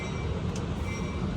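Amtrak San Joaquin train 714, bound for Bakersfield, departing Richmond station in California, giving a brief, steady, close rolling rumble with a faint high whine and no voices.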